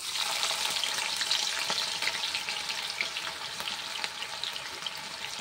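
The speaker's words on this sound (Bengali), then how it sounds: "তো এবার দেবো আমি এই গরম তেলটা। প্রথমে দেবো আগে থেকে কুচানো রাখা আদাগুলো," Chopped ginger drops into hot oil and sizzles steadily, a dense bright crackling frying sound close up and without pause, while cooking chilli paneer at home.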